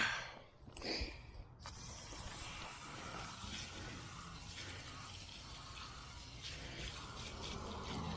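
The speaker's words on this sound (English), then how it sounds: "And then let's spray it down." A steady spray of water hisses continuously against a car wheel, following a few brief clicks at the start.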